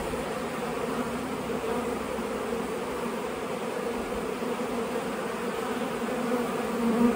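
Honeybees swarm around an opened hive while frames are shaken out, a continuous close, loud buzzing drone that stays steady across the whole stretch with no voices.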